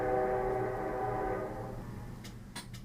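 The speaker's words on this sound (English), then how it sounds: "So did you hear that train whistle?" A train whistle blows in a long steady tone, then fades, followed by a few faint clicks and rattles.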